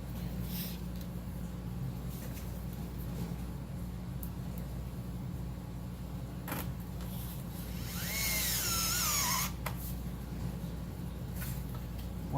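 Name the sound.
driving two screws into a terminal strip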